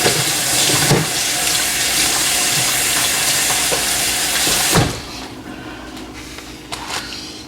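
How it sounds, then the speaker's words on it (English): Running tap water splashes steadily into a kitchen sink while hands are washed, a continuous broadband rush that cuts off abruptly near the end, leaving a quieter room with a few small clinks. "I'm going to take a second to wash my hands."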